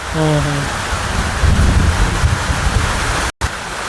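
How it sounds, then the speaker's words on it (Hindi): Steady heavy rain pours in a forest setting, a loud continuous wash with low rumbling gusts, after a brief tonal chime at the start and a momentary dropout near the end. "जभी तो ये बारिश कर रहा है"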